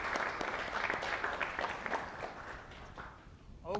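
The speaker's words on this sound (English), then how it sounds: "Let's give them a round of applause." Sustained applause from a concert audience, a dense steady patter of clapping that holds throughout and thins slightly near the end.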